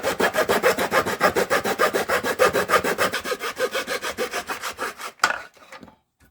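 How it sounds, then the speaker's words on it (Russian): Small hand saw drawn back and forth through cardboard tubes held in a miter box, a steady close rasping rhythm of strokes for about five seconds, then a sharp snap as the cut finishes and quiet follows. "Очень хорошо пилятся картонные трубочки при помощи вот такой обычной пилочки"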